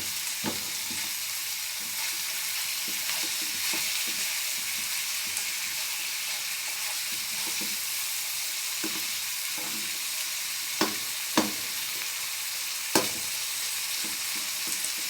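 Ground beef mixture with spices frying in a pan for stuffed cheese-and-potato mhancha, a steady close sizzle broken by occasional clinks and scrapes of a spoon stirring, with a few sharper knocks near the end.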